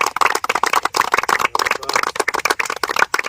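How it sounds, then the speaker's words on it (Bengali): A group of people clapping together in an enthusiastic burst of applause, dense rapid hand claps close by for several seconds without a break. "তালিয়া তালিয়া তালিয়া তালিয়া।"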